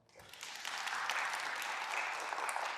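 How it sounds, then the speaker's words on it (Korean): An audience at a real estate lecture breaks into applause, the clapping rising quickly from quiet and holding as a dense, even wash of hands. "박수 한번 주세요."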